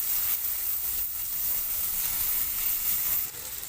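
Turmeric and spice powders sizzle in oil for masala Maggi, a dense, even, close hiss that keeps going with little change and dips slightly at the end; nobody speaks.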